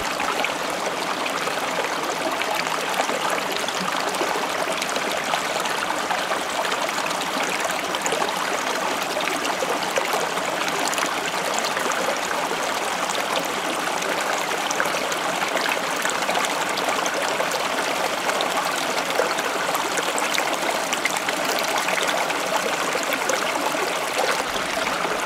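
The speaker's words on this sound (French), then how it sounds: "je viens me poser près de cette source là qui est juste là" Spring water flows steadily beside a spot in the woods, a continuous close trickle and babble that holds an even level throughout with no voices.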